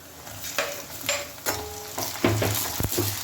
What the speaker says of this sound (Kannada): ಈರುಳ್ಳಿ ಫ್ರೈ ಆಗಿದೆ. ಇವಾಗ ಟೊಮೆಟೊ ಹಾಕ್ಕೊತಾ ಇದ್ದೀನಿ.